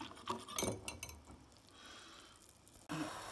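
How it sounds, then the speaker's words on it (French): Cornstarch and milk get whisked together in a bowl, producing quick clinking taps of a whisk against the bowl that fade into soft, faint stirring before a final louder knock. "Dans un bol, vous mettez une cuillère à soupe bombée de maïzena et vous mettez un peu de lait pour pouvoir diluer. Puis vous fouettez."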